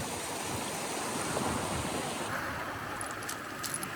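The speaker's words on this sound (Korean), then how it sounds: "파도가 칠 때마다 물보라와 함께 아름다운 소리가 들린다" Caribbean Sea waves washing onto a beach of coral fragments, a continuous soft rush of surf with light wind, fairly quiet and with no voices.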